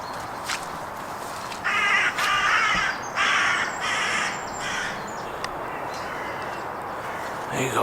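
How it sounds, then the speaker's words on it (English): Crows caw loudly several times in quick bursts over quiet woodland ambience while a wildlife photographer hides in camouflage near roe deer, with faint low talk in the background. "the crows have just give our position away"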